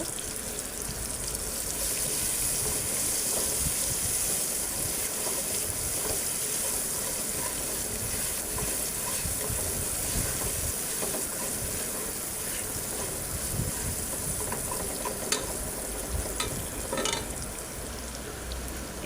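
Onions frying in a pan for home-style khichuri, giving a steady broadband sizzle that holds for the whole stretch with a few sharper crackles near the end and no talk over it.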